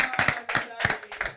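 Scattered claps from a small audience at a Saturday show, a few uneven bursts of hand clapping mixed with voices and brief chatter.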